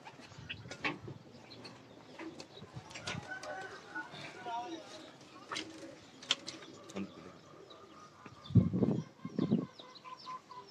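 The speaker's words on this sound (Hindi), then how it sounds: "परवाजी कबूतर।" Pigeons in a breeding setup for high-flying birds give low, soft coos, clearer toward the end, amid frequent nearby talking and scattered clicks.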